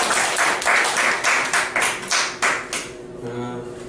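Church congregation clapping together during a year-end Sunday service, a burst of loud rhythmic claps lasting about three seconds before fading into quiet room tone.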